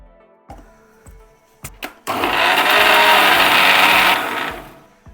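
A few clicks and knocks come first, then a kitchen mixer grinder whirs loudly for about two seconds, grinding spice paste with water for mutton donne biryani, before winding down.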